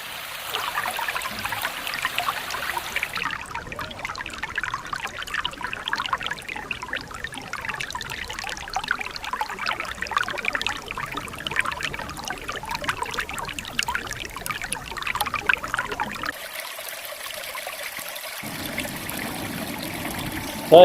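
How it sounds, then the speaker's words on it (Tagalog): Water pours continuously over a small rocky waterfall on the Palakol River, a steady splashing rush heard close up with no voices. "So ito guys, dito kami sa maliit na falls."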